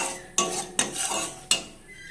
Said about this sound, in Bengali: এটা প্রথমে নাড়তে নাড়তে ফেনা দেখা দেবে